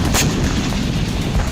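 A massive explosion from an Israeli air strike in southern Lebanon, a dense continuous roar of blast noise, loud and close, with a sharp burst near the start and no voices.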